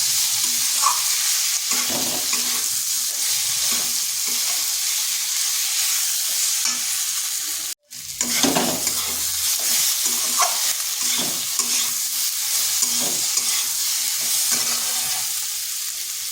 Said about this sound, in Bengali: এই মশলার সাথে বেশ কিছুক্ষণ সময় ধরে একটু কষিয়ে নিতে হবে।